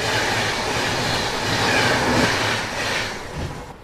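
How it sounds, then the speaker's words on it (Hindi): The Jhansi–New Delhi Taj Express passes at speed, close and loud, as a continuous rushing roar with rhythmic wheel clatter that holds steady and eases slightly near the end. "और मेरे ख्याल से ये झांसी नई दिल्ली ताज एक्सप्रेस जो है वो होगी।"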